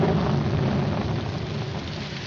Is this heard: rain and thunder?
yes